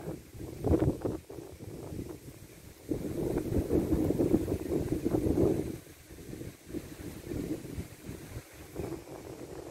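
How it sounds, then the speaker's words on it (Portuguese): Strong wind gusting through eucalyptus trees outdoors, a broad rushing roar that swells and eases in long surges, loudest in the middle, with buffeting across the microphone. "o vento tá muito forte"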